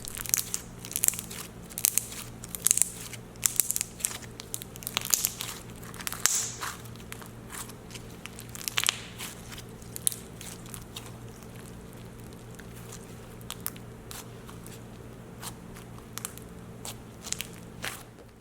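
Dense, crisp crunching and crackling from store-bought crunchy slime being squeezed and squished up close, irregular bursts continuing steadily with no talking.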